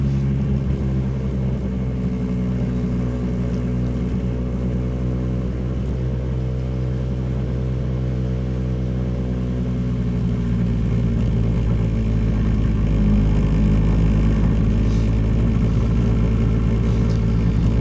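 A Lambretta GP125 scooter rides the coast road from Saltburn toward Whitby, its small two-stroke engine droning steadily and close up at an even pitch, with wind rumble underneath and a slight rise toward the end.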